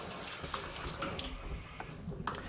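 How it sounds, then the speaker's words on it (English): Tap water runs and splashes steadily while home brew wine buckets, spoons, hydrometer, thermometer, airlock and bucket lid are rinsed, a continuous close wash with a few brief clinks. "that's rinsing the buckets, the spoons, the hydrometer, thermometer, airlock and bucket lid"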